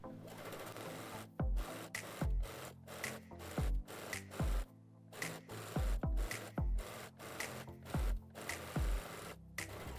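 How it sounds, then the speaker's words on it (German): A sewing machine runs in short bursts while stitching the underarm seam of a ruffled blouse, the motor whirring steadily between repeated clicks and thumps of stopping and restarting, close and moderately loud. "Und nähe dann einmal möglichst gerade auf unserer Linie"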